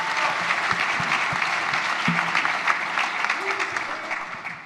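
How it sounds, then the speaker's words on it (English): A conference crowd at AWE Atlanta 2024 applauds a finalist, dense sustained clapping filling the room with a few brief voices calling out underneath. "Let's give him a round of applause."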